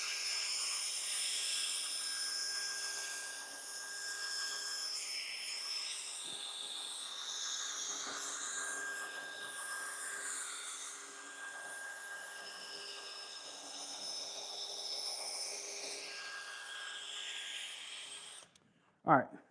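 A continuous whirring motor with brushy scrubbing as a drill brush scrubs car carpet, steady throughout and fairly close, ending with a brief sharp knock.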